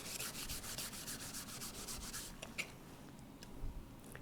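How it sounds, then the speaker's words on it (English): Rhythmic scrubbing of copper, brass and bronze jewelry-making metal to lift dark tarnish spots, a steady fast rubbing that fades out after about two seconds, leaving a few faint isolated scrapes. "I'm having to scrub a little bit more to get those dark spots off, but they do come off"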